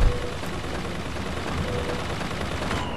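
Automated turret in BioShock Infinite: Burial at Sea firing a steady, continuous stream of rapid gunfire, fairly loud and sustained for the whole stretch with no voices.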